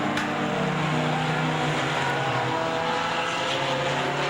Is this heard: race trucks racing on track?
yes